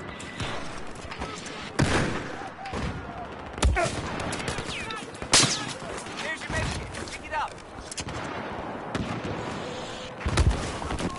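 Rapid bursts of gunfire and sharp explosive cracks in a Battlefield 4 match, loud and dense across the stretch, with a player's voice talking over the shooting.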